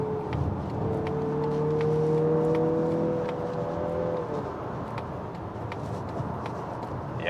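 A 2023 Mazda CX-50 GT in sport mode accelerating while merging, heard from inside the cabin as a steady engine drone with a rising tone that levels off midway, over continuous road rumble.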